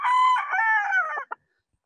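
A rooster crows once, loud and near, a long drawn-out call that trails off into a short final note and then silence.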